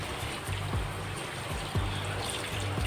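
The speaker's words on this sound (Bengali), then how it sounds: "আগে কাটার আগে ধুয়ে নিয়েছি, তারপর আবার ধুয়ে নিচ্ছি।" Running water trickling steadily while spinach leaves are rinsed in a kitchen, a continuous close wash with faint low rumbles underneath.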